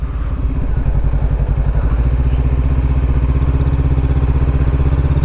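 A 2020 Honda CBR500R motorcycle engine runs steadily, with a close, loud, even mechanical throb and a low rhythmic pulse throughout and no talking.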